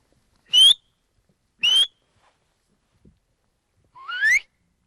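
A 15-year-old herder whistles across the frozen Siberian steppe: three sharp, high whistles, each rising in pitch, spaced about a second apart, with the last one longer and sliding upward, heard alone against near silence.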